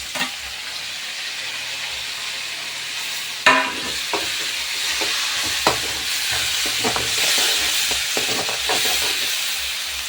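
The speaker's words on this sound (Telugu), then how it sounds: "చిన్న సైజు 2 టమాటాలు ముందు ఆయిల్లోనే వేసుకోవాలి" Two small tomatoes fry in hot oil for a fenugreek leaf curry, giving a steady sizzle with occasional stirring clatters and scrapes, and no talk.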